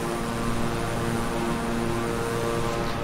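King Air 350i twin-engine turboprop in Microsoft Flight Simulator, a steady loud drone of propeller engine noise droning evenly throughout with no talk.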